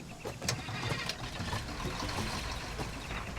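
A truck engine in Far Cry 2 cranks and catches, then runs at a rough mid-pitched idle, close and steady for a few seconds with a couple of sharp mechanical clicks near the start.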